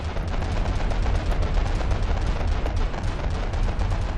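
Rapid, continuous video game gunfire with overlapping bursts at several rates of fire, loud and dense throughout, with no voices.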